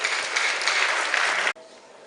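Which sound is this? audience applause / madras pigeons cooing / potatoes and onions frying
audience applause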